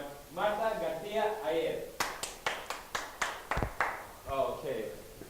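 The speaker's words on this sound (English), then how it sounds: "Please, everybody, give a warm round of applause for Marta, Garcia," Applause welcoming a guest teacher onto a journalism and reporting show: a short run of distinct, fairly loud claps between stretches of talk, sounding like a small group rather than a big crowd.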